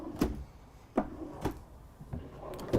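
Drawers in a 2022 Newmar Ventana 4334 motorhome sliding and knocking shut, several sharp wooden thuds spaced about half a second apart, close and fairly quiet with no talking.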